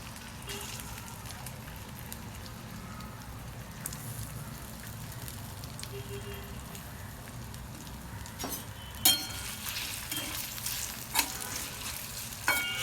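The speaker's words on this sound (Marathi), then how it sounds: "कडे तेल टाकले थोडं तेल चांगलं कडक झाले बटाटे कापलेले टाकून द्यायचे आपण" Cut potatoes frying in hot oil, a faint continuous sizzle with occasional spoon clinks and stirring knocks near the end, no talk.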